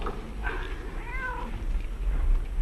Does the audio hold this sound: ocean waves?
no